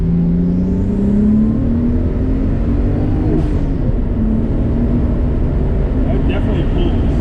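Stock Nissan Skyline R32 GTST pulling hard, a loud continuous in-cabin engine drone with a slowly rising pitch, then a brief shift and further climb, heard under steady talking.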